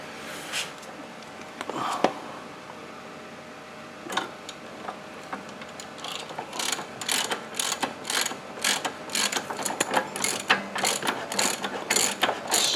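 A hand ratchet tightening roller bearing bolts, clicking in quick bursts that grow faster and denser after a few isolated clicks, close and alone with no talk.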